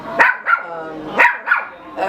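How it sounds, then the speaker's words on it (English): A pet dog barks four times in two quick pairs, loud and close, each bark sharp with a short tonal tail, with no one talking. "This is one of my 4 dogs that I have"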